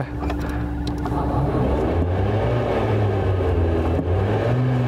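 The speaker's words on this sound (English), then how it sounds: "you can actually rev up the fan when you're stationary" A steady electric whir rises and falls in pitch as an electric car's fan is revved with the throttle pedal while stationary, with a low hum underneath and no talking.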